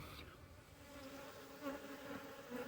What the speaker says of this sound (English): if you look where these bees are clustered up right here